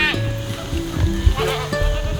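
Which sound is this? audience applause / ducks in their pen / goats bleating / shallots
goats bleating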